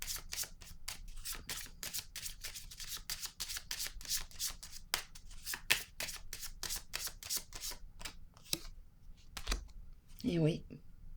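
A deck of cards being shuffled by hand: a long run of quick, crisp riffles and snaps, close and fairly quiet, with a short soft sliding sound near the end.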